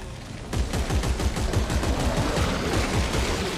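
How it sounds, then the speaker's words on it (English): A line gun fires repeatedly in Dead Space 3, a fast steady run of loud, close energy shots pulsing rhythmically for several seconds. "That comes in handy, the line gun."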